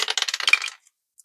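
A number die is rolled during a cash-stuffing budgeting game, giving a quick close rattle of clattering hits that lasts under a second, then silence with a couple of faint ticks.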